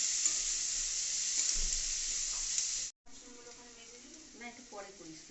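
Chopped onions frying in hot oil with panch phoron and dry chilli for a prawn chorchori, a soft steady sizzle broken by a brief cut, followed by faint stirring clatter.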